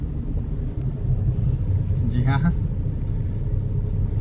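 A Tata Punch car drives along a road on a foggy morning, its low engine rumble and road noise steady throughout while someone speaks briefly over it.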